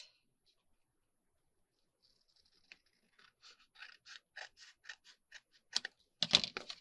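Paper card edges are trimmed with scissors or a trimmer, a quiet close run of crisp rhythmic snips and cuts that speeds up and gets louder toward the end.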